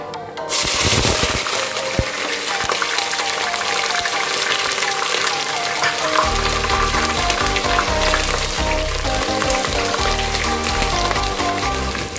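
Loud, steady sizzling of three sliced onions frying in hot oil for Hyderabadi mutton biryani, with a clatter at the start and a deeper rumble building in the second half.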